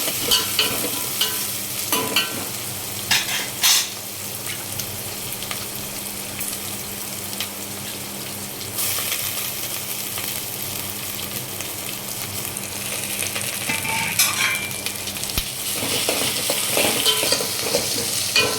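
Onions and curry leaves fry in a pan for kichadi, a steady loud sizzle with the scrape and clatter of a spoon stirring, occasional sharper bursts, and no talking.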